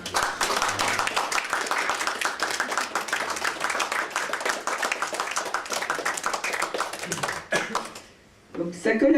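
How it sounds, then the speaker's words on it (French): An audience at a poetry gathering claps for Stéphane, dense rapid clapping that fills most of the stretch before dropping away, followed by a brief burst of other sound. "Je vous demande d'applaudir Stéphane."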